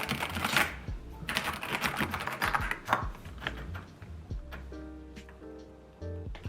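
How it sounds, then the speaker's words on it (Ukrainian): Rapid clacky keystrokes tap out on a SteelSeries Apex Pro Gen 3 mechanical keyboard in quick bursts, close and crisp, before a faint tonal hum takes over near the end. "звук клавіатури цей мені набагато приємніше"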